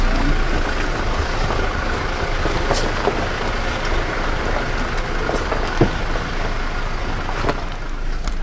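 Toyota Hilux Legend 50 pickup driving off-road in first gear low range: a steady, loud, rumbling engine and drivetrain drone throughout, with occasional knocks and creaks from rough ground and no talking.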